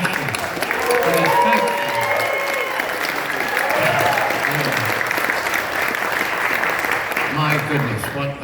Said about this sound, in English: we need a round of applause for Ashley